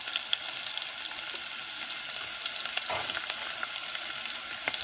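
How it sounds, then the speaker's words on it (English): Chopped onions fry in a pan for an Indian whole-chicken dish, giving a steady, close, continuous sizzle with a brief stirring scrape partway through. "I'm going to go to the frying pan, and I'm going to start frying these onions."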